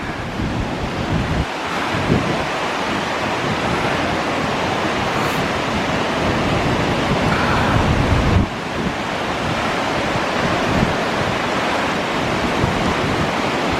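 Stormy sea at Watchet Harbour, with waves surging and crashing in a continuous loud roar, buffeted by wind gusting across the microphone.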